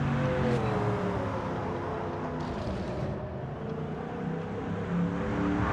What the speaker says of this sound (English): let's get a little old school drift here